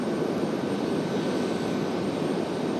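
An American Airlines heavy jet departs Raleigh-Durham bound for London Heathrow, a steady broad roar from some distance with no talk.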